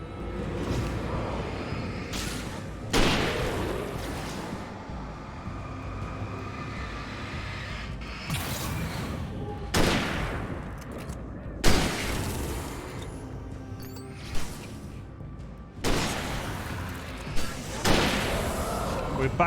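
Pistol gunfire in Alan Wake Remastered: about eight loud, sharp single shots spaced a few seconds apart, each with a short ringing tail, set over a steady low game ambience.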